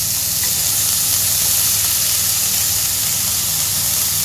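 Chopped onions and capsicum sizzle in a frying pan, giving a loud, close, constant hiss of frying with no pauses and no talk.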